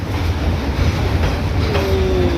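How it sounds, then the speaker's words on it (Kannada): Train rolling slowly through Hanoi's narrow Train Street, a loud close rumble of wagons and wheels with steady rattling, and a thin wheel squeal rising near the end. "9:30 ಅಂದರೆ ಕರೆಕ್ಟಾಗಿ 9:30 ಬಂತು ಟ್ರೈನು."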